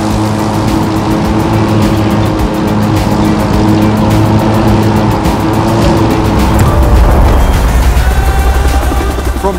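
Racing car engines in The Crew 2 on a New York City street race: a loud, steady high-revving engine drone with rising pitch and gear changes, continuous and without talk.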